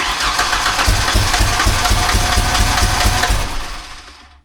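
A Ford Ranger pickup with a no-start fault cranks steadily for several seconds, its starter churning in a fast even rhythm with the engine catching roughly but not running, close and loud before fading out.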